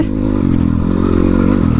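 A motorcycle in third gear climbs an uphill off-road track near Sarangkot, Pokhara, its engine a close, steady, loud drone that rumbles throughout.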